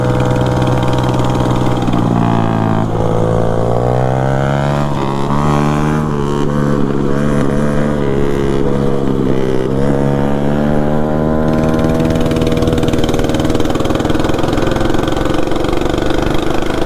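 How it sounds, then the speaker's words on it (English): A 224cc mini bike engine fitted with a new carburetor runs loud and close, its rough mechanical drone rising and falling in pitch through several revs before settling into a steady high idle, with no talking. "He put a nibby carburetor on that thing, so it actually runs now."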